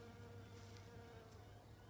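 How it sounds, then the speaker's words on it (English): Bees buzz steadily around herbs, berries, peas and rosemary in a spring backyard food garden in Canberra, a continuous faint insect drone with no voices. "and you can hear the bees buzzing around."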